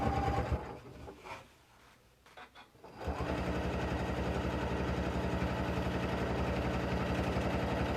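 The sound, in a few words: sewing machine stitching with quilt binder attachment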